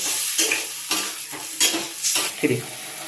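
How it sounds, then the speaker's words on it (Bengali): Small bele fish curry cooking in a pan while water reduces: a soft continuous sizzle broken by four or five distinct scraping stirs of a spatula, close and without talk. "জল দেওয়ার পরে জলটা টেনে যাবার পর্যন্ত আমি জাল করতে থাকবো"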